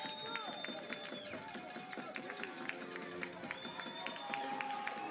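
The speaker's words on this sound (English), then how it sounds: "American Heritage crowd to their feet, making a lot of noise." Crowd noise from American Heritage fans at a high school football game against East St. Louis, a sustained roar with scattered whistles and clapping, mixed under an announcer's commentary.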